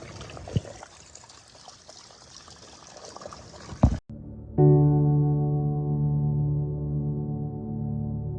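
Pure spring water from a mountain water post on a hiking trail, splashing and trickling steadily, then a fuller pouring stream filling something nearby with a rising ringing tone.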